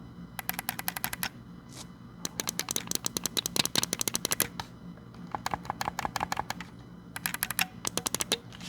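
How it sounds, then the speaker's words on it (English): D-pad on a Razer Wolverine V2 Chroma controller pressed repeatedly, crisp close-up mechanical clicks in quick bursts separated by brief pauses. "And this is what D-pad sounds like."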